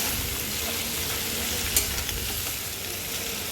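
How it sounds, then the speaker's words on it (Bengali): Fish curry ingredients with potato, cauliflower and peas frying in hot oil in a pan, a steady bright sizzle throughout with a brief utensil scrape as they are stirred. "এবার ভালো করে নাড়াচাড়া করব ততক্ষণ না একটু লাল হয়ে যাবে, লালচে রং ধরে।"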